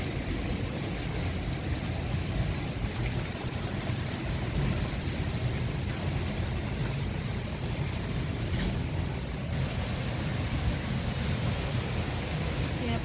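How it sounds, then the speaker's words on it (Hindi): A storm blows through with wind and rain. A steady, dense wash of rain and gusting wind fills the whole stretch at an even, moderately loud level, with no letup. "हवा भी चल रही है, पानी तूफान भी चल रहा है, साथ ही साथ बारिश भी हो रही है"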